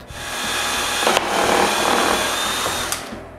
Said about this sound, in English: When the varnish is dry, I drill pilot holes on the door stoppers.